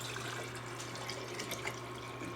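Spring water pours out of a gallon bottle in a kitchen, a quiet, continuous trickling and splashing stream with a low steady hum underneath.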